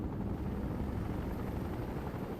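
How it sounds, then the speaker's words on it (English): A scout helicopter in the war game World in Conflict drones with a dense, steady rotor and engine roar, loud and continuous, with no voices. "Enemy scout helicopter spotted."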